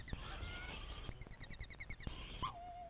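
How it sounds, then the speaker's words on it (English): Jungle birds in an African setting let out a rapid series of nasal honks, about a dozen in quick succession, loud and close, with a sustained squawk before and after. "Oh, darn those jungle birds."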